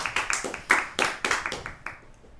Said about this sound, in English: Round of applause for Dope Fades.